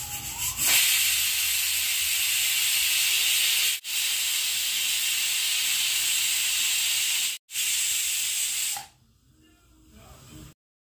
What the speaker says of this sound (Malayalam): 3 വിസിൽ കേൾപ്പിച്ചു.